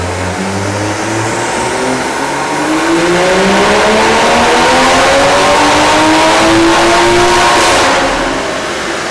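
A tuned Toyota Supra's engine screams through a dyno pull, revs climbing steadily in a long rising sweep to a loud peak before easing off, close and alone with no talk.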